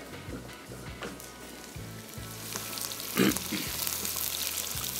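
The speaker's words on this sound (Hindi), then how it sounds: "सबसे पहले इसमें ये वाइट पार्ट स्प्रिंग अनियन का डाला और इसको थोड़ा सा करेंगे फ्राई" Spring onion whites frying in hot oil for a prawn masala, a steady close sizzle with brief stirring clatters and a sharper burst partway through, no talking.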